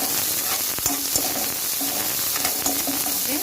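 Thinly sliced medium-sized onions sautéing in oil in a pan, a continuous close sizzle with occasional scraping and stirring strokes of a spoon, steady and fairly loud, no talking.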